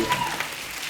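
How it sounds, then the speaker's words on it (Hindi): A studio audience on a comedy talk show claps in a short, dense burst of applause, loud and near, with no voices over it. "एक बार जोरदार तालियां हो जाएं अक्षय पाजी के लिए।"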